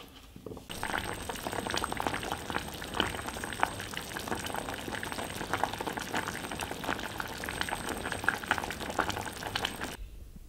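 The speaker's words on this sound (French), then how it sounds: "je vais mettre le tout à bouillir pendant juste quelques minutes." Pumpkin pieces boiling in salted water in a pot, a steady bubbling and gurgling at low level, close and continuous, with no talk.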